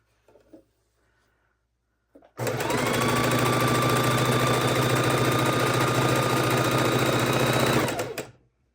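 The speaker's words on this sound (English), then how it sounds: "bring them back to the sewing machine and add on the next piece" A sewing machine stitches quilt pieces, running steadily for several seconds with a fast, even whirring hum, starting and stopping abruptly after a brief pause.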